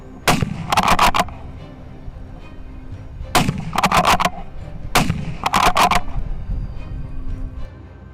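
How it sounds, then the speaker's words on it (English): Rifle shots ring out at wild boars in three rapid clusters of loud, sharp cracks, each burst several shots close together with echoing tails between the volleys. "The shot rings out as expected, sending the boars into a panic."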